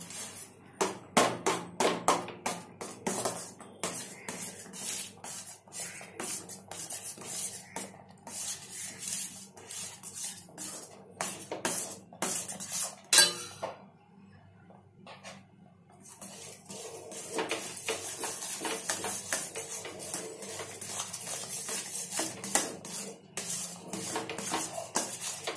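A spoon scrapes and clanks in a pan while semolina and rice flour dough is stirred and roasted over low heat into a thick mass for chakli, rapid close metallic knocks and scraping, a short quieter pause partway, no talking.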